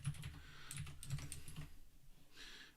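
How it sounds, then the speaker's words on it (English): Soft keyboard clicks tap out in a quick, faint run, close by against low background hum. "Wow, let's try typing."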